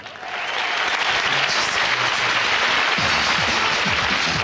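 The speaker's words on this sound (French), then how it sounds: "Applaudissez-les" An audience at a fashion show applauds young models on their first stage appearance, a broad, sustained wash of many hands that swells quickly after a brief start and holds steady and loud.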